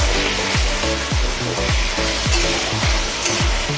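Diced potatoes for sabudana khichdi fry in hot oil with a steady sizzle, broken by rhythmic stirring scrapes in the pan, all without talk.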